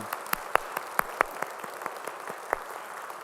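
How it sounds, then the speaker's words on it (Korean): A church congregation at Sunday worship gives scattered applause, a handful of distinct sharp claps ringing out over a soft, thin patter in the sanctuary. "우리 찬양을 받으실 주님께 영광의 박수 올려드리겠습니다"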